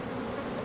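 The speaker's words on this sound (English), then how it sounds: "get off me, bee" A honey bee buzzes close by near an open hive, a brief steady drone heard on its own.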